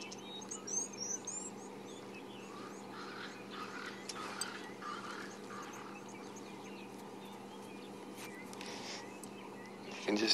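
Crested francolins and Cape turtle doves call across the African bush at sunrise in the Sabi Sand reserve, scattered chirps and coos at moderate distance over a steady low hum of dawn ambience.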